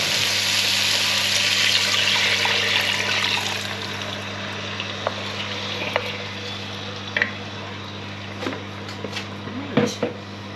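Liquid poured into a pan of sizzling aromatics for Chinese braised beef cheeks: a loud rush and hiss at first that settles into softer bubbling and frying with occasional clinks and stirring, with a person talking.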